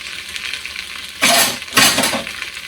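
Tomato paste sizzles in a pot for red beans and rice with andouille sausage, two loud bursts of frying as it is stirred, separated by a quieter simmering hiss.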